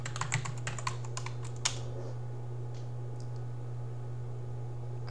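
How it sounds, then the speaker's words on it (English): Quick, close keystrokes rattle on a computer keyboard for about two seconds, then stop. A steady low electrical hum continues beneath and after the typing. "then I'm able to do type sudo nmtui network manager text user interface"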